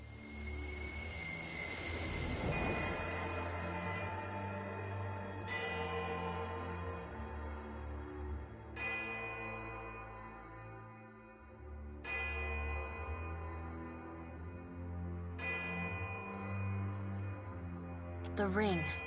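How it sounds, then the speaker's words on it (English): Bells toll in the Pillars of Eternity 2 Deadfire game, deep resonant strikes sounding roughly every three seconds, each ringing out with long sustained overtones that decay slowly and overlap with the next. "The ring of a bell comes to you on a cold wind."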